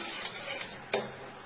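Flour stirred in a pan while toasting for sellou, a light dry scraping and faint sizzle close by, with a couple of brief brighter strokes and no talk.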